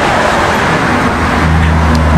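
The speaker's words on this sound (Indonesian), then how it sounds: "di sini pinggir jalan besar, jadi suara-suara mobil itu sangat keras sekali" Cars pass continuously on a busy main road, a loud, close wash of traffic roar with a low engine hum building near the end.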